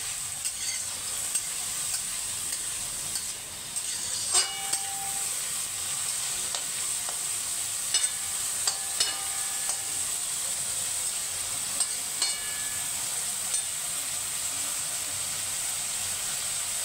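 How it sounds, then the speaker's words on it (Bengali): Chopped onions frying in a pan give a steady, close sizzle and hiss throughout, with occasional sharp clicks and scrapes of stirring, and no voices. "পেঁয়াজ কুচিটা একটু ভালো করে লাল লাল করে ভাজবো।"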